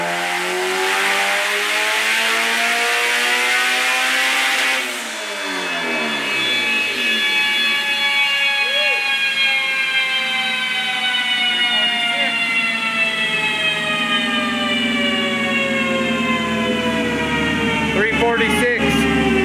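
A vehicle engine, freshly fitted with new spark plugs, revs hard. Its pitch dips briefly, then climbs in one long, loud, steady pull close by.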